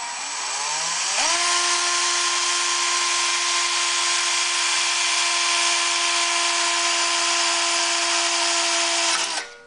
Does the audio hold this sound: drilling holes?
yes